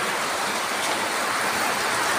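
Steady, dense hiss of heavy rain pouring down without pause, loud and close throughout.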